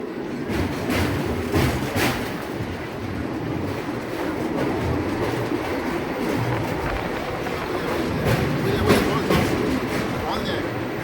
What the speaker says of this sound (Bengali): আর ঠিক তার পাশে রেল ব্রিজ। ছুটে চলেছে Santragachi Digha first passenger train.